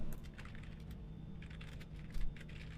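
Someone types names on a computer keyboard with quick light clicks in short bursts, faint and close, over a steady background hum.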